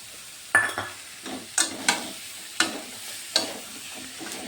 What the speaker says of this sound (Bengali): আলু আর পটল দিয়েও একটু কষিয়ে নেব।